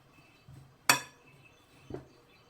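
A utensil clinks sharply against a bowl while walnut and almond macaron batter is mixed, with one loud close clink followed a second later by a softer one over a quiet background.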